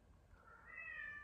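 A house cat meows softly in a room, a single drawn-out call rising at the end, faint and close against low background hum.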